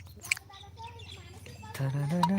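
Small birds chirp in brief, high tweets scattered through the background while a voice talks throughout, with a louder, busier stretch of sound near the end.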